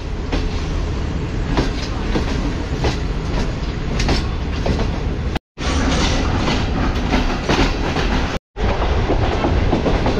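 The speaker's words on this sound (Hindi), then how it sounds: "लाहौर जंक्शन को ट्रेन ने अलविदा कह दिया है और अब आगे बढ़ रही है बेसिकली कराची की तरफ" The Green Line Express, a passenger train leaving Lahore Junction for Karachi, rumbles loudly from on board, with steady clickety-clack of wheels on the rails and two brief silent breaks.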